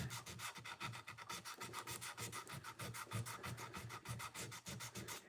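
Guitar frets being sanded by hand with 240 grit paper during fret leveling and crowning, a steady rhythmic back-and-forth rubbing scrape, close and continuous without talk.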